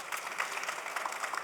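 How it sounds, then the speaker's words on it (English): An audience claps for conference panelists, a steady, even patter of many hands at moderate loudness with no voices over it. "Please give the panelists another round of applause for their insights and contribution to this session"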